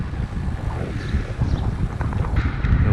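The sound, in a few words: wind while cycling outdoors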